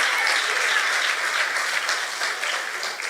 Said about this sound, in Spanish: dele ese fuerte aplauso al Señor